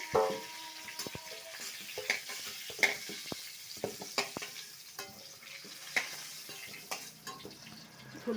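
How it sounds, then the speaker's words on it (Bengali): Pointed gourd slices frying in a pan give a steady sizzle broken by repeated scraping stirs and light clinks of a spatula against the pan, close by, with no talking. "পটল ভাজা"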